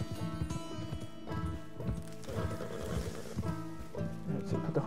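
Horse hooves clip-clop in a steady, close rhythm in the Red Dead Redemption 2 video game, with the horse's gait running on under game music and ambience throughout.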